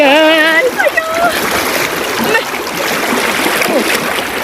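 Rushing stream water at an off-road vehicle crossing flows fast and loud throughout, with splashing and people talking over it.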